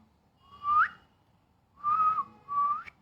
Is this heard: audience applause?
no